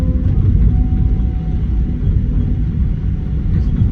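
A Tigercat 6900 grinder chewing through storm debris gives a continuous, loud, low rumble of heavy engine and grinding, steady throughout with no voices.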